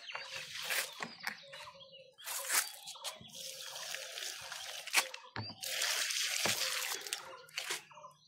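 Water is poured into a water filter in short, uneven bursts, splashing and trickling between pours, with a voice speaking now and then.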